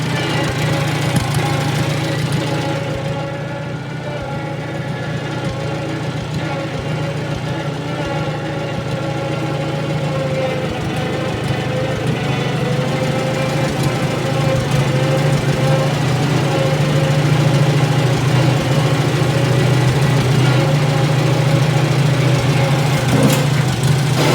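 A Super A tractor engine runs steadily for the whole stretch, a continuous close mid-pitched drone with a strong low hum and a faint knocking beat, no talk over it.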